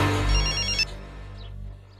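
A telephone rings in a dramatic film scene, a short bright electronic trill that cuts off abruptly, followed by near silence and no talking.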